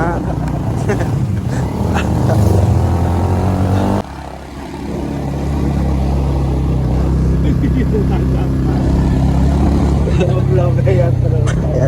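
A Honda Supra motorcycle engine drones loudly and steadily, rising in strain as it climbs uphill, with road and wind noise close around it.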